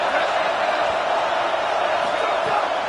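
Home crowd roaring loudly in a USC at UCLA college football video game, a steady dense wall of cheering and whooping that holds at full volume throughout with no break.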